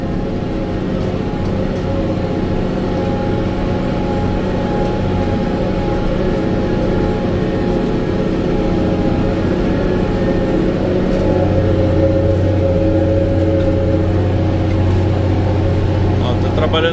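BH234 Hi-Tech tractor pulling a 56x22 levelling disc harrow, a steady loud engine drone with rattling and grinding from the implement, continuous throughout while someone talks over it.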